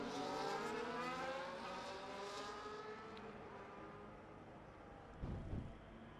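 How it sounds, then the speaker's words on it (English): Two Ferrari Formula 1 cars in an F1 esports video game rejoining the track, their high engine whine sweeping in pitch and slowly fading, followed by a brief, closer roar of another car passing. "the 2 Ferraris make their way back out onto track"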